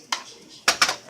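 Turkey breast cutlet is tossed in sauce in a pan, giving three quick metallic clanks and scrapes close up.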